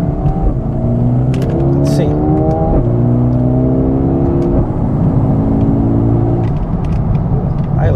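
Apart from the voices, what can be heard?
Mercedes A35 AMG sedan accelerating, exhaust crackle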